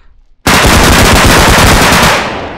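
Automatic gunfire in the video game Bodycam, on an abandoned hospital map: a sudden, very loud, continuous rapid burst of close shots lasting about two seconds, then tapering off.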